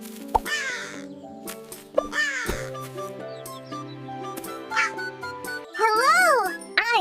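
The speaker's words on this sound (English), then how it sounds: "Hi, I am a crow." A crow caws several times in a children's farm-animal learning sequence, harsh rising-and-falling calls standing alone and clear, with a louder burst of repeated caws near the end over a soft musical bed.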